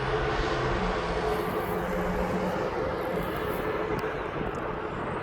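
An airliner departs East Midlands Airport bound for Jersey, a broad, continuous engine roar at steady loudness heard from outside with wind buffeting the microphone, no talk over it.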